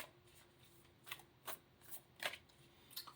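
Angels and Ancestors Oracle cards being shuffled, a series of quick, crisp riffling bursts spaced about half a second apart, close and fairly quiet with no talk.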